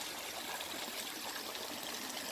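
Fast-running creek about 20 feet wide, a steady broadband rush and trickle of water heard close by and fairly soft, with no voices.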